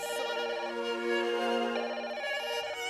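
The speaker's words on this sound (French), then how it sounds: "et puis le téléphone qui sonne" Electronic telephone ringtone inside a French rap song, a steady repeating melodic trill of bright tones layered over the music, loud and continuous for a few seconds before a phone call begins.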